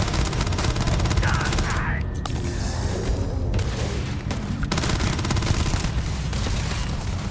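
Double-barrel shotgun fire in the space game Starfield, loud, dense blasts crowding together in a continuous barrage of combat noise with no clear gaps.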